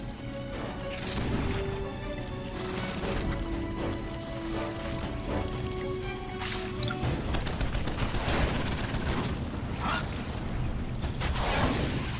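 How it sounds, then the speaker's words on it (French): Gunfire from the video game Earth Defense Force, a dense, continuous barrage of rapid shots with crashing impacts and mechanical clatter, loud and busy throughout with a game soundtrack underneath. "J'essaie de passer pour tirer dans le vide."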